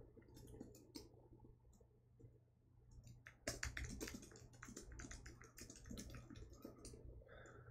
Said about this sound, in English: Sorry, I'm typing on the Discord for a second.